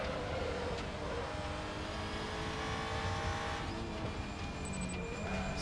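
Audi RS3 WTCR touring race car in RaceRoom, its engine droning steadily and loudly with constant rumble, no talking.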